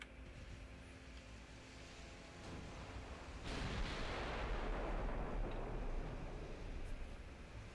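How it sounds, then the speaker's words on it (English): Naval secondary guns firing in Ultimate Admiral Dreadnoughts, heard as a faint distant rumble that swells into a sustained roaring barrage of overlapping booms, with no voices. "I'd fire the secondary guns at you."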